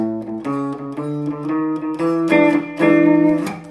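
A short guitar blues turnaround moves through a descending bluesy line and lands on final chords, played steadily and close with a slightly gritty, amplified tone.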